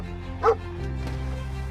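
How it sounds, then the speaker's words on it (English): A single short bark from a dog rings out at close range, followed by a faint second yip over a low steady hum. "Why are you barking?"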